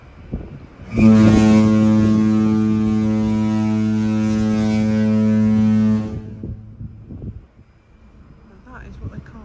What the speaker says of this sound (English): That is what they call a foghorn.